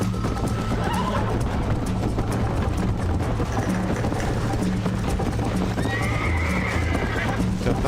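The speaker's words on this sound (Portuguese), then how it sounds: "Tá chiando o cavalo, tá reclamando." A horse gallops with steady pounding hoofbeats and lets out brief whinnies in the video game Red Dead Redemption Remaster on PC, loud and continuous, with a voice talking over it.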